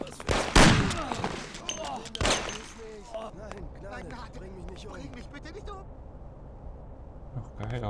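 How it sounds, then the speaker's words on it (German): Gunfire in the video game Mafia, set in Lost Heaven: two loud, sharp shots come close together near the start, then someone talks excitedly over faint background sound. "Hör mal auf zu schießen, du blöder Spacko!"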